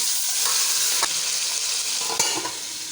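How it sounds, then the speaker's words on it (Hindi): Tomato, green chili and ginger-garlic paste fry loudly in hot oil, a dense steady sizzle with sharp spattering pops and a few stirring scrapes, close and alone. "तो अब यहाँ पर ये पक रहा है, तो इसका शोर हो रहा था, छींटे हो रहे थे"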